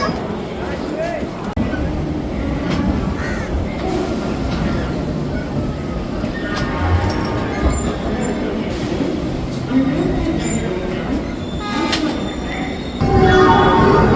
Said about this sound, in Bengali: ট্রেন আমাদের ছেড়ে দিল হাওড়া স্টেশনে।